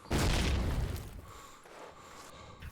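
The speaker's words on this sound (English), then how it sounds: "2 of the lOwzZ nades just landed on top of the bedroom roof." Grenade blasts in Call of Duty: United Offensive land on a bedroom roof, a loud close boom at the start that fades into a rumbling, crackling tail with scattered debris.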